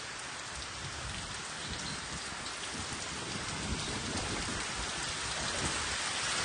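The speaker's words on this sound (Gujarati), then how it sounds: "હજી વરસાદ કન્ટિન્યુ વધવામાં છે" Heavy monsoon rain pours down in a dense, unbroken hiss, drumming steadily on surfaces nearby as floodwater rises.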